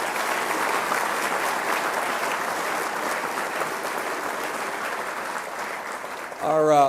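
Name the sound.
audience applause at a basketball banquet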